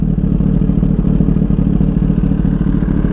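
A 2021 Kawasaki ZX10R sport bike with an M4 exhaust idles up close, a loud, steady, rapid lumpy thrum with no voices.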